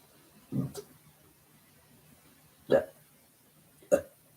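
A person burps three times during an energy healing session, short throaty bursts separated by quiet pauses, moderately close, with no talking.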